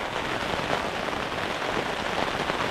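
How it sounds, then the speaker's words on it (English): Steady, dense rain patters on a surface nearby in the Jotunheimen mountains at Gjende, Norway, a continuous hiss with no pauses and no voices. "It's raining a lot."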